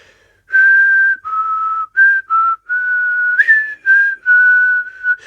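A person whistles in imitation of an annoying movie villain, a close series of about eight short tonal notes in an irregular rhythm, with one sliding upward, each separated by brief gaps.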